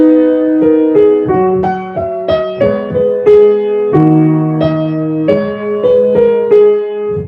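A synthesized melody plays in clear, evenly struck notes with sustained chords beneath, moving at a moderate, steady pace.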